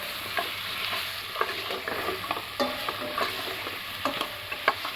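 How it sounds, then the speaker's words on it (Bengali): A spice paste with chili powder, for garlic beef, sizzles and fries in a pan while it is stirred steadily with a utensil, making close scraping taps over a constant hiss, with no talking. "মশলাটা এখন ভালো করে ভেজে নেব।"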